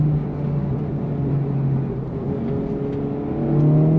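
A 2023 Honda FL5 Civic Type R pulls hard on throttle, its engine note rising steadily in pitch as it accelerates, loud and close with a whirring drone beneath.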